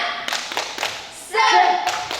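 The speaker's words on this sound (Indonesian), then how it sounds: "Kita sebelum mulai ibadah kita tepuk semangat dulu." Children at a Sunday school service clap a rhythmic chant, a few quick claps and taps followed by a short voiced cheer, with talking mixed in.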